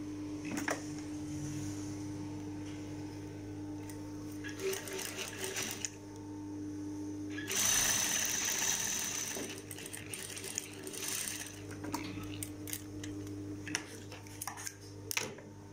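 A sewing machine stitches a hooded cape, running in steady close bursts with a constant motor hum and brief clatter between runs, and no voices.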